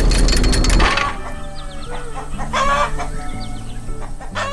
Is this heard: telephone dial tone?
no